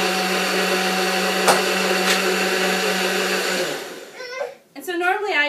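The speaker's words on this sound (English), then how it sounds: "Then you just blend it for a minute and it gets all frothy." A blender whirs steadily for several seconds, frothing bulletproof coffee with a loud, even motor hum, then stops as a voice begins talking close by.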